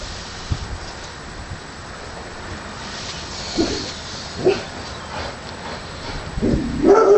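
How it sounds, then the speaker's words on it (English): Outdoors, a dog gives a few faint, distant barks and yips scattered over a steady background hiss, with a slightly louder bark near the end. "Probably heard a dog there, didn't you?"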